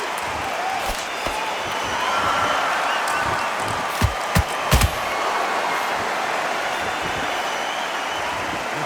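Boxing arena crowd in the Undisputed video game, a steady buzzing murmur filling the background, broken by a few sharp thuds of punches landing midway.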